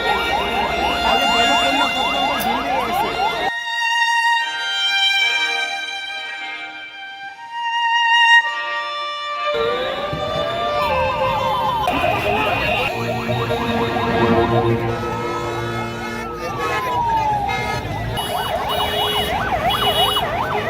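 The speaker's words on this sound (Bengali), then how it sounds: "অসংখ্য অ্যাম্বুলেন্সের আর্তনাদে প্রকম্পিত পুরো এলাকা" Several ambulance sirens wail loudly at a scene where injured people are being carried off, their rising and falling tones overlapping and sweeping on and off, with a brief drop out midway.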